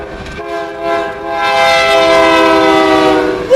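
An older GE locomotive leads a Union Pacific train past at Ladysmith, Wisconsin. Its horn sounds loud and steady, rising in the first second and then holding a sustained, harmonically rich blast for the rest of the clip.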